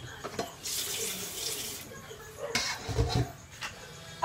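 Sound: running water while washing with soap

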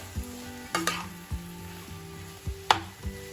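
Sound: potatoes and chillies being sautéed for vada pav filling

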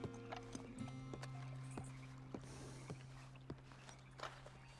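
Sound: horse walking in a video game

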